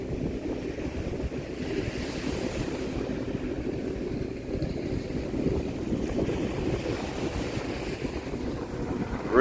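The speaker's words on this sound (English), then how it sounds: "Dude is soaring on that jet ski" A jet ski riding on the ocean at Jomtien Beach, a steady distant engine drone blended with waves and wind buffeting the microphone, continuous and moderately loud with no voices.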